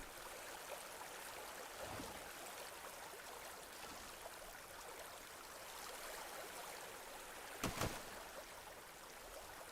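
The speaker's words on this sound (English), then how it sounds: "Now that we have the water working" A waterfall built in the video game Enshrouded pours steadily as a broad, even rush of flowing water, faint and constant, with one brief sharper splash near the end and no talk.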